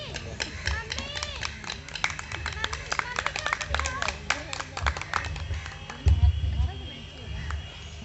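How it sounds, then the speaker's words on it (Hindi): A crowd at a Bhagavat Katha gathering in Varanasi claps to welcome a guest, a dense run of hand claps under someone talking over a public address, with a louder thump of sound partway through. "ताली से स्वागत करें सभी लोग मिलकर के।"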